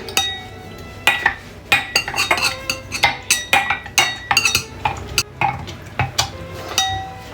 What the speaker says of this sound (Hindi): ये मेरे पास कीवी है, ये कटा हुआ मैं ये डालूंगी। इसे हम थोड़ा सा प्रेस कर लेंगे।